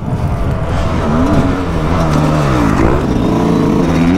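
Motocross motorcycle engine revving hard while riding, loud and close, with rising and falling pitch sweeps as the rider works the throttle through gear changes.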